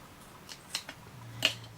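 Scissors snip a cream ribbon leaf, a few faint quick clicks and cuts close up in a quiet room.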